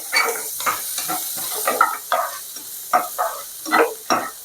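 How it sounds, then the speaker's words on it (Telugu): Six to seven garlic cloves frying with onion in a pan for dhaba-style chicken fry, giving a close sizzle broken by rhythmic scraping stir strokes about every half second. "దీన్ని బాగా మనము ఫ్రై చేసుకుంటాము"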